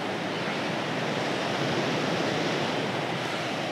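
Steady, dense wash of sea waves against rocks at the water's edge, a continuous close roar with no distinct breaks and no talk.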